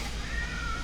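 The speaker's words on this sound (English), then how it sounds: "You'll have to excuse my old cat." An elderly house cat meows in a kitchen, one drawn-out vocal cry held steady across the moment, fairly close and moderately loud with no talking over it.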